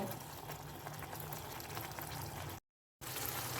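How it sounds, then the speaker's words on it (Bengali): Pabda fish curry gravy simmers in a pan with a dense, steady bubbling hiss heard close up, briefly cut to silence before resuming. "পাঁচ মিনিট আমি একটু এরকমভাবেই ফুটিয়ে নেব"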